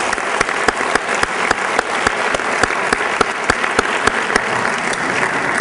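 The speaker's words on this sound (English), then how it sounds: "Have a round of applause for our students." A large audience at a speaker-series event gives a round of applause for the students, with dense, steady clapping of many hands and a few sharper individual claps standing out.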